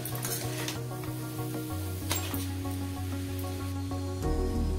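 Chow mein noodles fry with vegetables in a hot pan, a dense close sizzle with stirring scrapes and a low hum underneath, steady throughout with no talking.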